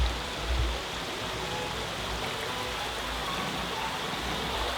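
Cranberry Creek, a small meandering Pocono Mountains stream at Nothstein Preserve in Paradise Township, flows with a steady, even rush of water, a continuous close hiss with no voices over it.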